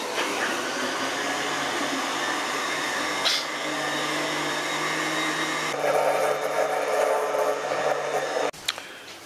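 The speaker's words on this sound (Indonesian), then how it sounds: "Kemudian kita akan blender sekarang." A kitchen blender whirs steadily as it purees tofu in rice washing water. The loud motor drone runs continuously, deepens partway through as the load shifts, and cuts off abruptly near the end.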